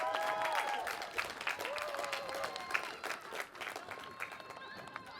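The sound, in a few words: audience applause for families and friends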